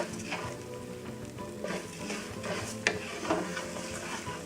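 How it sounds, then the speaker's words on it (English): Rice and onions frying in a pan while being stirred, a steady sizzle with repeated scraping and clinking strokes of the utensil against the pan at irregular intervals, close and fairly quiet. "you want to fry your rice, and you want it to come to about a golden color"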